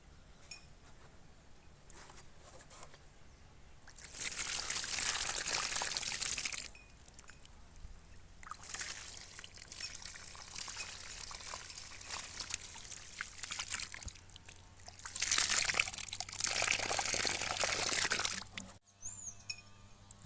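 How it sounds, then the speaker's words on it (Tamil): Water is poured onto a newly planted native moringa tree outdoors, with two longer splashing, trickling bursts separated by quieter stretches and faint background noise and birds; moderately close, no speech. "இப்போ வந்து இதுக்கு உயிர் தண்ணி நம்ம ஊற்றிக்கலாம்"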